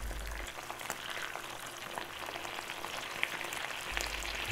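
Sauce thickened with cornflour bubbles and simmers in a pan, a faint continuous bubbling sizzle with scattered small pops throughout.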